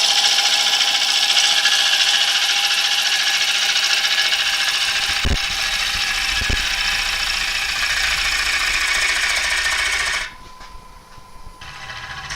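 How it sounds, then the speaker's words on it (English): Wood shaking and chattering as it spins on a lathe during a final wall-thinning cut, a steady rough rubbing rasp lasting about ten seconds with a couple of sharp knocks, then dropping away abruptly near the end. "That noise you can hear is the wood beginning to shake."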